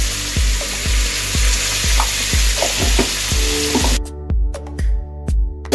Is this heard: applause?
no